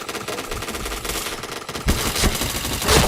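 Gunfire in the shooter game Point Blank: loud, dense automatic bursts rattle almost without pause and grow sharper near the end, with no talking.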